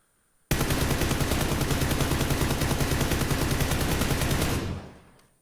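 Rifle fired in rapid automatic bursts through a compensator muzzle attachment, a loud, dense string of sharp cracks lasting about four seconds before cutting off and fading into quiet.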